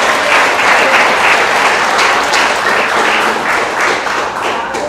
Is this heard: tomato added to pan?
no